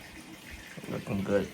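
Water pours into a 120 gallon aquarium during setup, a soft, steady wash that rises toward the end, faint and continuous with no talk over it.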